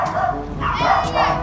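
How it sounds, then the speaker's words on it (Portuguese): Dogs yipping and barking outdoors near a white Swiss Shepherd: excited, overlapping yelps and whimpers, fairly loud and close, mixed with wind or movement noise. "É as cachorrinhas."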